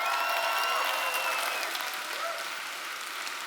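A large crowd claps steadily, a dense wash of applause with scattered cheers and whistles, fading slightly toward the end.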